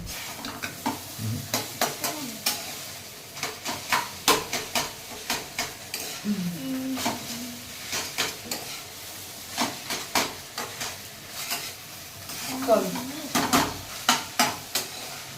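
Chow mein tossed and stirred in a hot wok (kadai): rhythmic scraping spatula strokes repeat steadily over a continuous sizzle, with a few clinks of metal on metal.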